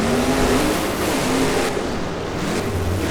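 Monster truck engines, Grave Digger 25th Anniversary and Grave Digger Blackout, roaring loudly and continuously in a BeamNG Monster Jam race, a dense droning growl with shifting revs as the trucks hit the jumps.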